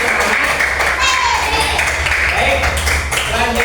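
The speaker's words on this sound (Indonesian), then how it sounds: "Tepuk tangan dulu." Students in a classroom clap together, a brisk continuous patter of hands close by, with children's voices and chatter mixed in.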